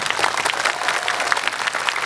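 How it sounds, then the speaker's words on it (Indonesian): A crowd at a religious gathering for the anniversary of Bekasi Regency claps in dense, steady applause, loud and continuous throughout. "tepuk tangan buat beliau."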